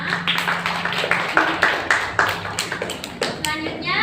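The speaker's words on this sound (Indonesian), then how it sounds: "Berikan tepuk tangannya semua." A primary school class claps hands for a group that has just presented, with several sharp, uneven claps close by and children's voices chattering underneath.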